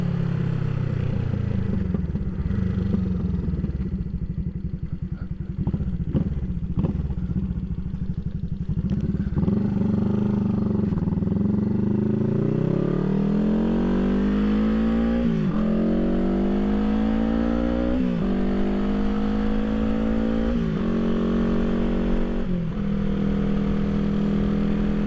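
A 1975 Honda CB360T motorcycle rides along, its engine running steadily and then revving up through rising pitch sweeps with gear changes, loud and close throughout with no talking.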